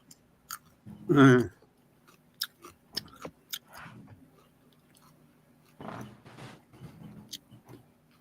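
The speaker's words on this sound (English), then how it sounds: "Who's chewing on something?" Someone chewing food close to a microphone during a live movie commentary: several short, moist, crunchy bites and mouth noises in irregular bursts, fairly faint, with a brief louder sound near the start.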